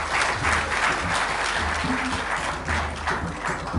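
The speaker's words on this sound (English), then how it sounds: "He deserves another round of applause." A crowd at a presidential meeting with the Black Stars football team claps in sustained, dense applause, loud and continuous for a few seconds with slight swells.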